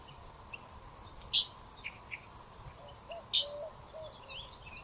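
Common yellowthroat giving its sharp call notes, two bright chips about two seconds apart, with a few softer bird calls in the background of a quiet outdoor setting in the Owyhee region.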